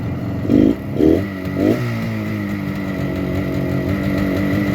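A 1972 Suzuki T500 Titan two-stroke street bike blips its throttle three times in quick succession, then settles into a steady, loud, close idle with a burbling, uneven two-stroke rhythm.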